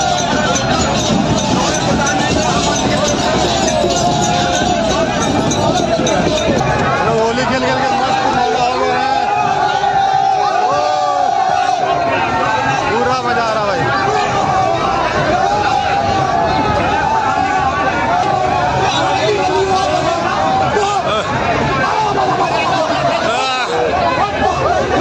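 Dense crowd chatter and hubbub at a village Holi celebration in Phalain, a continuous loud wash of many voices with drumming and festive commotion running throughout.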